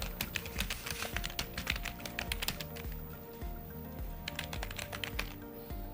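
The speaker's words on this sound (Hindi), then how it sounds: "देखिए, हमें यहाँ पे कुछ टाइप करना है पहले" Rapid, close keystrokes clatter on a computer keyboard in irregular bursts, with a steady low hum beneath the clicking.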